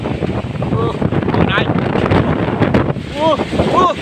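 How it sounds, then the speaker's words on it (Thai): Strong wind roars and buffets the microphone in a loud, steady rush during a rainstorm, with voices calling out faintly over it. "อันนี้ลมลมแรงมาก"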